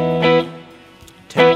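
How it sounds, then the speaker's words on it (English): Electric guitar played through a Rock Amps Studio Lead amplifier with reverb: two loud sustained chords, the first ringing into a long reverb tail before a second strike near the end. "That's some Ted Templeman reverb right there."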